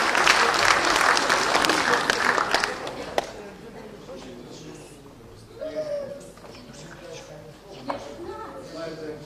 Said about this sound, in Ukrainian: Вітаємо оплесками.